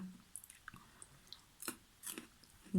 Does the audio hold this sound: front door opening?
no